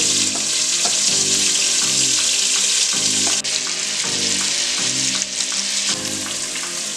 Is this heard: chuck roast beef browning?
yes